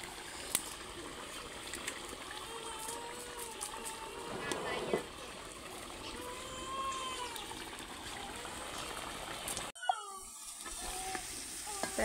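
Eggplant frying in a pan on a rooftop stove, a steady close sizzle with occasional stirring clatter, broken by a brief sharp cut before the sizzling resumes.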